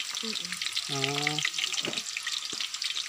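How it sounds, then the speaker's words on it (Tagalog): Hot oil sizzling and spattering in a frying pan at an outdoor park food stall, a steady close crackle, with a voice briefly speaking over it. "Oh, kumatalsik yung mantika."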